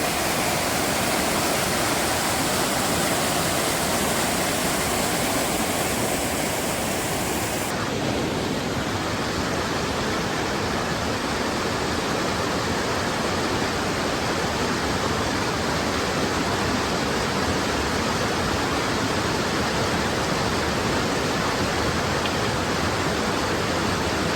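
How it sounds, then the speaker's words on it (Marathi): A large hidden waterfall in the main Sahyadri range in Konkan roars in a dense, constant rush of falling water, loud and unbroken throughout, with no voices. "आता आपण त्या हिडन वॉटरफॉलच्या जागेवर पोहोचलोय जिथून तो दिसतोय पुढं"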